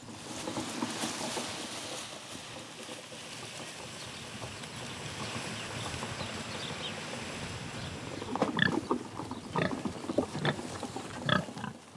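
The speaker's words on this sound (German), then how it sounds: "Für die Schweine eine willkommene Mahlzeit." Pigs on an old-breed farm grunting and snuffling as they feed on green fodder, a dense steady rustle with louder close grunts toward the end.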